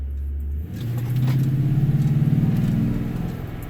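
A Toyota Tundra pickup fitted with an aFe cold air intake starts up and revs nearby, its deep engine rumble swelling into a pulsing growl before easing off.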